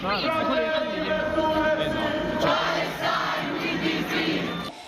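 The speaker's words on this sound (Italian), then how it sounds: "una folla eterogenea, famiglie, bambini, lavoratori, sindacati per un unico grido: Palestina libera" A protest crowd in Prato della Valle calls out for Palestine with voices of families, children, workers and unions, loud rhythmic shouting that rises and falls before cutting off abruptly.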